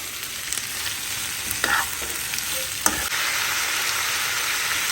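Capsicum and onion sautéing in a pan, a close, steady sizzle with a few clicks and scrapes of a spatula stirring, continuous and fairly loud with no talk.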